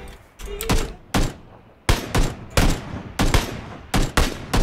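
Gunfire in the Battlegrounds video game: a run of loud, close single shots in uneven bursts with short gaps between them, each dying away in a brief echoing tail, with no talking.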